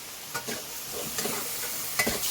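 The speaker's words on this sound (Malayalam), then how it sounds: "ഇത് രണ്ടും കൂടി നന്നായിട്ടൊന്ന് വഴറ്റിയെടുക്കട്ടെ" Shallots are sautéed in a pan over a wood-fired stove, with a faint continuous sizzle and a few light scrapes of stirring across the short stretch and no speech.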